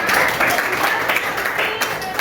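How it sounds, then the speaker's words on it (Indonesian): Audience in a classroom presentation session applauding a presenting student group, a dense wash of clapping that stays steady and fairly loud throughout, with a voice speaking faintly underneath. "sekali lagi beri tepuk tangan buat kelompok anak"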